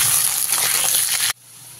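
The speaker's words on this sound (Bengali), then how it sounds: "আলুগুলো দিয়ে ভালো করে ভেজে নিতে হবে।" Cut potatoes frying in hot oil with black cumin seeds, a loud close sizzle that stops abruptly near the end, leaving only a faint hum.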